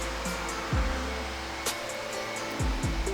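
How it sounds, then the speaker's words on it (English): Breath is blown into a glass wish ball, a close, steady airy rush broken by a few low whooshing bursts over roughly three seconds. "I just blow in it and add my own essence, my own life force into my wish ball"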